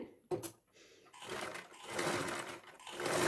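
Sewing machine stitching a neckline, a brief whir near the start, then steady close running that grows louder and continues to the end.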